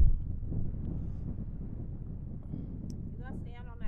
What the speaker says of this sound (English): The wind will blow me over.